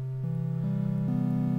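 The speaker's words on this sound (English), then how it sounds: "This is the square wave." A hollow, reedy square-wave synth tone from the Subtractor synth climbs through four held notes in quick succession, steady and clean.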